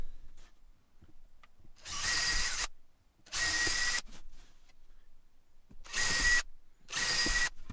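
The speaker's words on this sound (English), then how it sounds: "So I'll get these pilots drilled" A power drill whirs into wood in four short bursts while drilling pilot holes for a window frame, each lasting under a second, with quiet pauses in between, close up.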